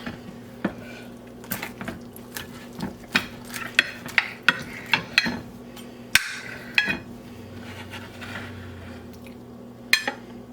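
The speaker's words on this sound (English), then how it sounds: "We're just going to cut it right through the center." A knife cuts through a coiled Catherine wheel sausage of three sausage types on a plate, giving sharp, irregular clicks and taps of metal on crockery over a faint steady hum, with no voices.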